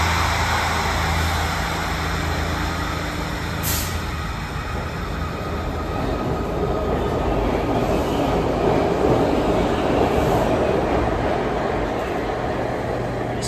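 A local subway train runs along the main line of Philadelphia's Broad Street subway, giving a steady, loud rumble of wheels and car noise that holds throughout with no talk.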